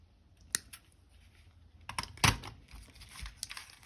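Jewelry wire for a wire-wrapped chain gets snipped with cutters, a few sharp isolated clicks and a louder snap midway, close and quiet with light handling noise between.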